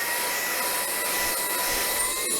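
A BVILY cordless vacuum cleaner runs in turbo mode, giving a steady, loud high-pitched whine and airy rush that holds evenly throughout without any talking over it.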